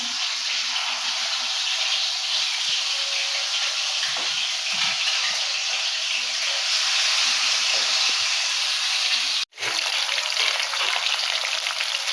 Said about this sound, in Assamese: মাছখিনি ফ্ৰাই হৈ গ'ল।